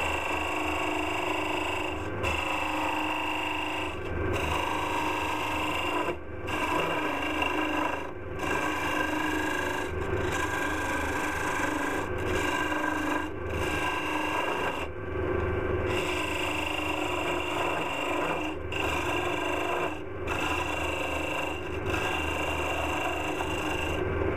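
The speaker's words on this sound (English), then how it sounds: "Just removing some wood now, using the skew chisel" A skew chisel cutting wood on a turning lathe gives a steady, continuous rasping scrape with brief pauses, loud and close, running throughout without talk.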